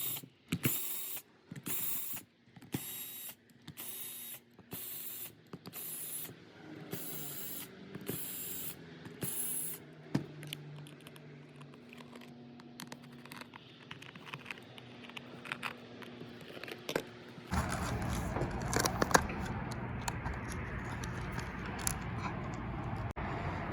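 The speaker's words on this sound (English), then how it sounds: "take our 3/32 inch Allen key and remove 1, 2, 3, 4, 5, 6, 7, 8, 9, 10 bolts" Bolts being removed with a 3/32 inch Allen key, a series of clicking and ratcheting turns in regular bursts, then steadier mechanical rattling and scraping, close and moderately loud.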